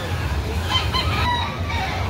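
Rooster crowing at a gamefowl market in Carbon, Cebu City, a single brief crow heard faintly amid low crowd murmur.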